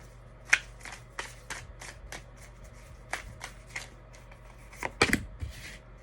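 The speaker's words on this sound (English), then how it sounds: "So let's go ahead and get some tarot cards about this." Tarot cards are shuffled by hand in a series of crisp riffling bursts and soft taps, close and fairly quiet, with a louder flurry near the end and no talk.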